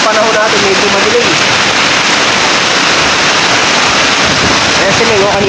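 Heavy rain pours down outdoors in the pre-dawn dark before spraying work, a dense, steady hiss that fills the scene from start to finish, with occasional faint tonal sounds heard beneath the downpour.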